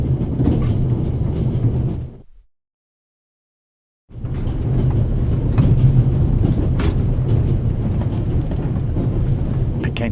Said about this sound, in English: First, I'll stop the train